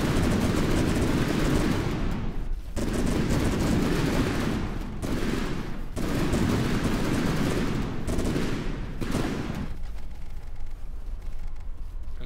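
A rapid-firing cannon in From The Depths fires in long, dense bursts of rattling shots broken by brief pauses, loud and close, with no talk.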